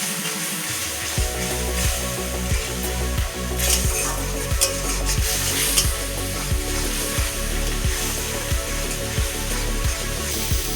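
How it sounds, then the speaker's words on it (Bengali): Spices sizzling in a pan as they are fried down for a Bengali egg curry, a steady loud hiss and crackle with a regular scraping stir of a spatula repeating about once a second. "এবার মশলাটাকে ভালো করে কষিয়ে দেব।"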